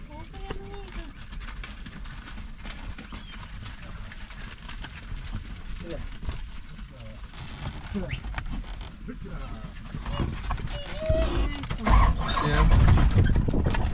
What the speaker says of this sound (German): Und schauen, wie die Kühe hier an uns vorbeifahren.